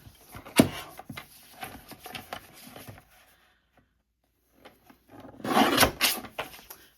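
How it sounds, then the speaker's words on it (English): Scissors or a blade trimming excess paper from a folded signature page, a few crisp snips and rustles up close, with a quiet pause between bursts. "I'm just going to cut this little excess off here."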